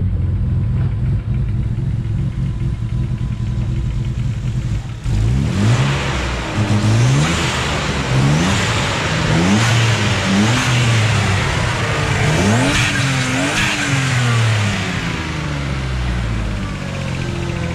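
A BMW E36 328i fitted with twin turbos revs hard and loud, with rising and falling sweeps over a steady engine drone that starts near idle, alone and up close.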